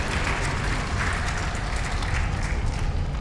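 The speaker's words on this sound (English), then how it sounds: "clap for that, that's fine." Applause from a live audience at a speedrun marathon event, dense sustained clapping filling the room without pause and without talking over it.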